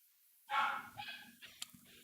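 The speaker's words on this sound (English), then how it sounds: "Oh, my dogs are so annoying." Pet dogs bark indoors in a short burst, one loud bark followed by a few quieter yips and whimpers, fairly close.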